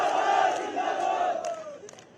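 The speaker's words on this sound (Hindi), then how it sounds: "बोले पुष्कर धामी जिंदाबाद" A crowd at an outdoor political rally in Purola, Uttarakhand, chanting a slogan in unison, a loud drawn-out collective shout that fades over about two seconds.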